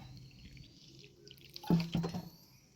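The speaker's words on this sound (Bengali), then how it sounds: "পরিমাণ মতো জল দিয়ে দিচ্ছি" Water added to a spice paste of chilli powder, coriander powder and salt: after a quiet stretch, a short close pour with a few soft splashes and drips lasting under a second.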